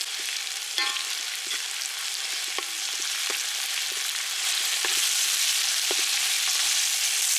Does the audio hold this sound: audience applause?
no